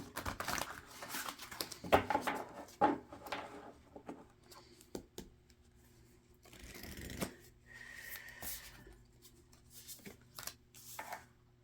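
Cards being shuffled and drawn from a Whispers of Love tarot deck, with soft papery riffles, slides and light taps that come in several short bursts, quiet and close with no voice over them.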